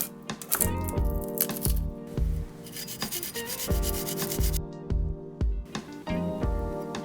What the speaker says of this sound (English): Then we'll just grate some garlic.